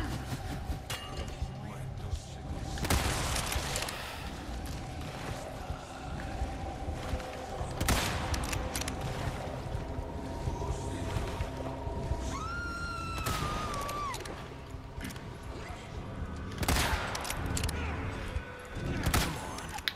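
Gunfire in Resident Evil 4, several sharp broadband shots spaced a few seconds apart over a steady game background, with a brief tonal sweep in the middle.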